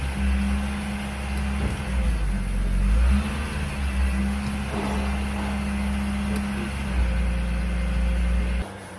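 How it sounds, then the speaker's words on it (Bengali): A 2005-model car engine with a fault that stops it revving above 2200 RPM, heard up close. A steady idle hum rises and falls through several modest revs, then cuts off near the end. "গাড়িটার সমস্যা হচ্ছে আরপিএম তেলে 2200-এর উপরে ওঠে না"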